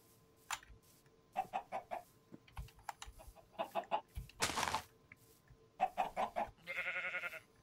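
Minecraft chickens from the Better Than Wolves mod cluck in short bursts of clipped, repeated clucks, with a brief noisy rustle in between and a buzzy trill near the end, all fairly faint.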